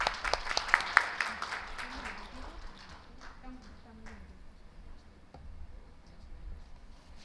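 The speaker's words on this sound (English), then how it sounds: "Please give a round of applause." An audience claps at a health-focused corporate social responsibility awards ceremony, a scattered round of applause that is strongest at first and then thins and fades.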